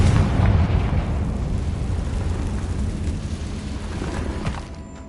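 A Confringo spell explosion in the Hogwarts Legacy video game, a heavy rumbling blast that booms loud at first and then slowly decays over several seconds, with no voices over it.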